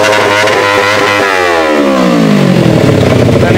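A 300cc 4x4 cross kart engine revs hard and loud, its pitch sweeping upward steadily as the throttle opens, sustained and close with no talking over it.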